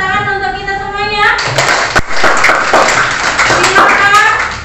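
Children in a classroom clap their hands together after a voice speaks briefly. The clapping is close and loud, with uneven claps and voices chattering over it.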